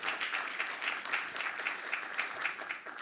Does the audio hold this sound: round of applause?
yes